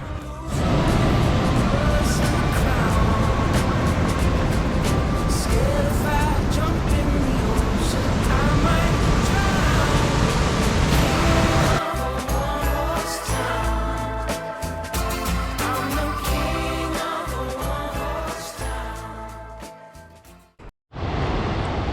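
Waterfall in Yosemite Valley swollen with snowmelt, a loud, steady broadband roar of rushing water heard up close that holds constant and then softens toward the end.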